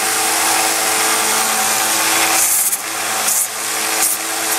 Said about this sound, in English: a little eraser. And that erases your belt, gets that grime off.